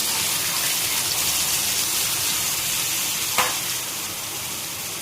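Ginger, garlic and onion sizzle steadily in a hot frying pan for a Bengali fish and cabbage dish, a dense close hiss with one brief clink near the end and no talk.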